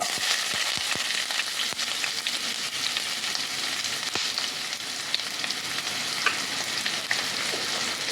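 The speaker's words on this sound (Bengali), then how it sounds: "এবার ওই তেলে দিয়ে দিচ্ছি কেটে রাখা পেঁয়াজ কুচি" Chopped onion hits hot oil already holding dried red chillies and bay leaves, a dense, steady sizzle with a few sharp crackles and spatula scrapes near the start, close and continuous.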